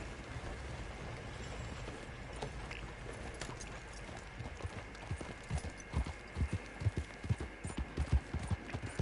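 Horse hooves clip-clopping during a ride, a steady stream of hoof falls that grows louder and more distinct toward the end over a constant low background rumble.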